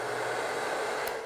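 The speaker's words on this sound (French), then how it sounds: "Le test du sèche-cheveux, il consomme 2000 watts." A 2000 watt hair dryer running on a low setting, a steady close whooshing blower hiss with a faint motor hum, continuous and even with no speech.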